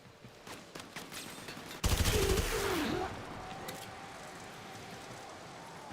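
A burst of rapid gunfire from the shooter game Warframe lasts about a second. It is loud and close, then fades into a lingering tail of lower game noise with no talk.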